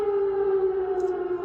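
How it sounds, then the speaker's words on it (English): A steady, wailing air raid siren in Kyiv, Ukraine, holds one sustained tone throughout, loud and continuous with no voices. "listening to air raid sirens"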